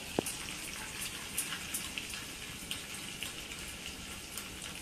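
Green chillies sizzling crisp in hot oil, a steady close crackle and spatter with small pops scattered through it, and no voices.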